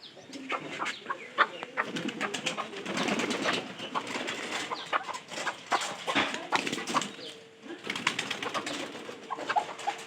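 Pigeons kept in a loft cooing on a rainy day, several soft throaty calls repeating close by, with faint scratching and fluttering movement between them and no talk.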